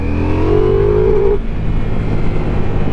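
A Ducati Multistrada V4S motorcycle engine revs with a loud, close rising whine that climbs for about a second and then falls away to a deep, steady rumble. The bike has its stock exhaust.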